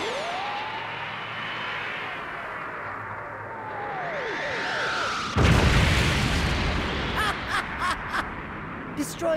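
In a Dragon Ball Z: Resurrection 'F' animated movie scene, a rising whoosh builds into a sudden heavy explosion as a city is destroyed, followed by a loud rumbling roar and sharp bursts.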